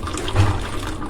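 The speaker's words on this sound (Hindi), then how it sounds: "ये जो है मैं इससे गर्म पानी ले रही हूँ इसमें।" Hot water pours from a dispenser into a mug, a steady close rushing stream with a slight gurgle, running alone without talk.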